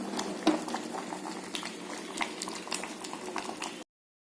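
Sambar vegetables simmer in a covered pot, giving a steady, close bubbling and hissing boil with faint lid rattles and small clicks throughout, ending abruptly.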